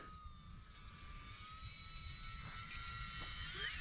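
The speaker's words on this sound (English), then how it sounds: "I'm flying at very minimal throttle right now. This thing flies so slow." E-flite Micro Draco 800mm RC airplane flying slowly at very low throttle, its electric motor giving a thin steady whine that rises slightly near the end, fairly faint over background noise.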